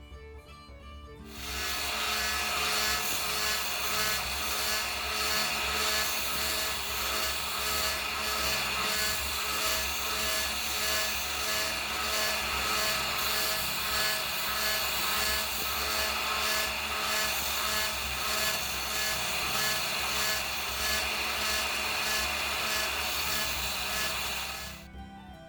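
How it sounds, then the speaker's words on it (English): Wooden screwdriver handle scales being sanded to shape during a vintage screwdriver restoration, a loud continuous power-sander whir with rough abrasive rasping that starts abruptly and stops near the end, no talking. "Here's the scales roughly sanded to shape"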